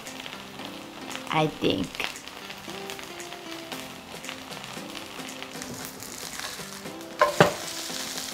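A Korean chive and shrimp pancake sizzles steadily in a frying pan, a soft continuous crackle close by, while a person talks over it.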